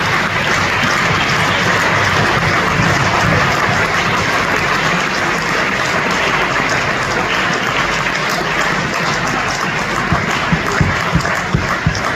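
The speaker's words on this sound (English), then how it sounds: "Please can those lads come to the front and give them a round of applause." A cricket audience applauding young players at a Warwickshire county age-group awards evening, with steady, dense clapping that fills the room continuously and stays loud throughout.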